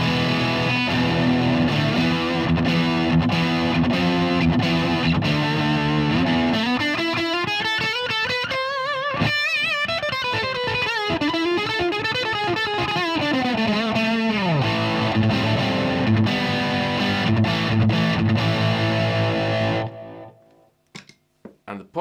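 Electric guitar played through a Boss DS-1 distortion pedal in a pedal comparison, loud and sustained, with dense chords shifting into a rising and falling lead line before cutting off near the end.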